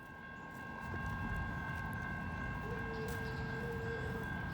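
CSX Q455, a fast freight train running late from Waycross toward Jacksonville with a 3024 lead locomotive, mid-train distributed power and rock cars, rumbles steadily past up close, its low wheel roar joined by a steady tone midway.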